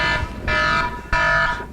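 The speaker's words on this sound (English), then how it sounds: "that's my alarm to wake up for work" A wake-up alarm for work sounds in three loud, harsh buzzing bursts, each lasting about a third of a second and separated by short gaps.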